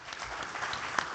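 Brief burst of audience applause at a roundtable discussion, a short patter of clapping from a small crowd.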